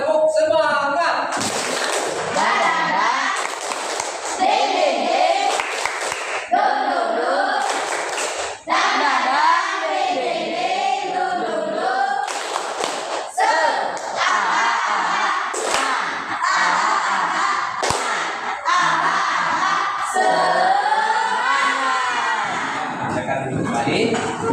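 Classroom of children clapping a rhythmic chant together, loud and close, with bursts of patterned claps mixed into their energetic group chanting and voices throughout.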